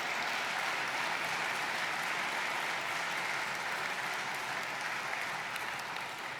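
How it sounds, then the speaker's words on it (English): Sustained audience applause at a journalism awards ceremony honoring a commentator, steady dense clapping from a large crowd throughout, loud and continuous with no talk over it. "this is time for applause"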